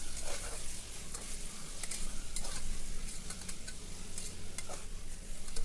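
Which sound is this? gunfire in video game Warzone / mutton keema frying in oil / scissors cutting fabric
mutton keema frying in oil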